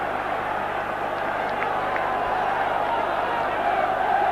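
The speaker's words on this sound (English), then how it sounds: "Certainly got the Barnsley crowd roaring." A Barnsley football crowd at a 1982 home match against Leeds United keeps up a steady, continuous roar throughout, broad and constant with no breaks or peaks.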